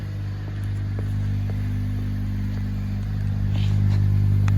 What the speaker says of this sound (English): push button start in a GT. Startup sequence in through there.